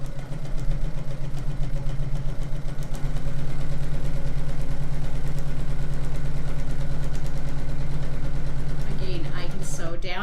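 A sewing machine stitches a quilt block for an hourglass star pattern, its motor running in a loud, steady mechanical hum with a rapid needle rhythm, sustained for several seconds before stopping.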